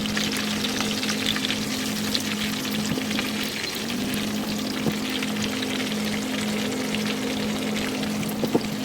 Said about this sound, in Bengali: চিকেন ভাজি তেলের মধ্যে আমি পেঁয়াজ কুচি দিয়ে পেঁয়াজ কুচি ভাজি করে নেব